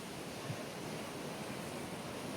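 Sea waves breaking against rocks make a steady, dense rushing roar, fairly faint and distant, with a constant wash and no distinct individual crashes and no voices.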